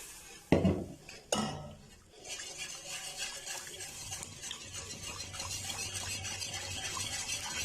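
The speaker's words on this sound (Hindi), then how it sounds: "चम्मच हमने मुसलसल चलाते रहना है" A spoon stirring white sauce in a pan: two loud metallic clanks at first, then continuous soft scraping and swishing close by, with a faint sizzle underneath.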